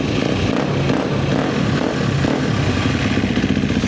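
A KTM 250 XC-W dirt bike idles close by, a loud, steady, rapid burble with a slightly uneven pulse that continues without revving.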